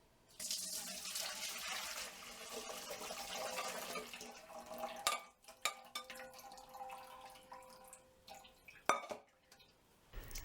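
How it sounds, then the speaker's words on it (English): Plant dye liquid is poured and strained into a pot or bowl, a steady trickling, splashing stream for several seconds that thins to drips, with scattered clinks of kitchenware, quiet and close. "Strain the liquid."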